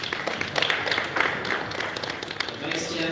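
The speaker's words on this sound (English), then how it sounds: "just clap for him" A crowd claps steadily for a few seconds at a graduation, a dense, even patter of applause filling the space with no pauses.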